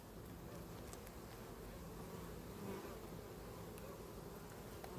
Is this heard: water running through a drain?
no